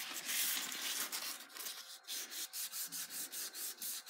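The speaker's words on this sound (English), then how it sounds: "600 grit sandpaper" A wooden chef knife handle is rubbed with fine 600 grit sandpaper, a close, soft scratchy hiss of steady strokes that settles into a regular back-and-forth rhythm of about two strokes per second.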